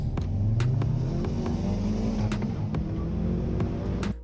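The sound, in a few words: car engine revving at race launch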